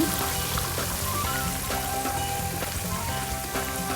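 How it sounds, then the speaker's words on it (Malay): Steady crackling sizzle of fish frying in hot oil, with soft popping bursts throughout, close and continuous. "Kita goreng kedua-dua belah ikan ya"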